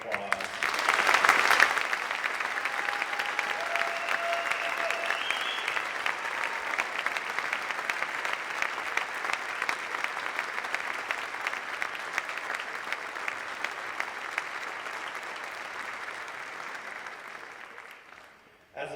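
University audience at a state-of-the-university address gives a long round of applause for community partners, dense clapping holding steady for most of the stretch before tapering off near the end.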